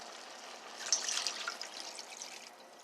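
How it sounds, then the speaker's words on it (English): Water is poured in a soft, steady trickle into a simmering pot of chicken and noodles with cream of chicken soup, close by and fairly quiet, with no talking. "a little more water."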